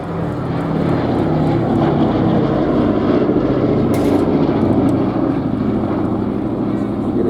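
A B-17 bomber with four Wright Cyclone radial engines drones loudly and steadily as it flies past at an airshow at Little Gransden, its low propeller roar holding constant while a commentator speaks over the top.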